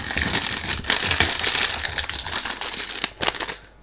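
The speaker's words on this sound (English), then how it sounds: "Sorry about the noise when you do unboxing, you can't do anything about it." Cardboard box packaging for a Dunhill London Amalfi Citrus eau de parfum crinkles and crackles continuously up close during unboxing, with rustling and sharp crumpling bursts and no talking.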